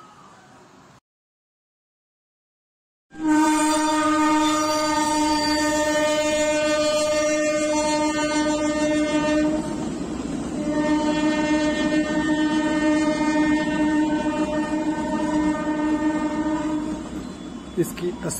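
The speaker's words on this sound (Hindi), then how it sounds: "अभी थोड़ी देर में यहाँ से हॉलिडे एक्सप्रेस गुजरेगी जो कि लंबी ट्रेन है" Holiday Express, a long train on the Kalka-Shimla mountain railway, passing close by with a loud sustained horn blast over rumbling wheels and carriage clatter after a brief silence.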